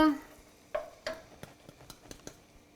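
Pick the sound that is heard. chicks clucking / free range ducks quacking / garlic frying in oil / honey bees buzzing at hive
garlic frying in oil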